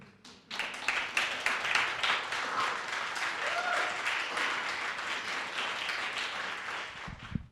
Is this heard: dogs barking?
no